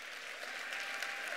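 Steady audience applause fills the whole moment at an indoor Christmas gathering, an even wash of many hands clapping at moderate volume with no voices standing out.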